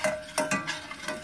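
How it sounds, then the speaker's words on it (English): Masala spice mix is stirred in a cooking pot over oil, a few brief scraping strokes in an uneven rhythm, close and moderately loud, with a light sizzle beneath. "I give it a bit of a stir"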